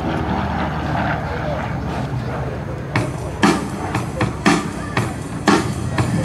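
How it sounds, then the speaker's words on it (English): A SIAI-Marchetti SF260 propeller airplane performing aerobatics at an airshow, a fairly quiet engine drone in the distance with a few louder bursts of wind or crowd noise toward the end. "Very quiet airplanes compared to some of the airshow planes flying for us today."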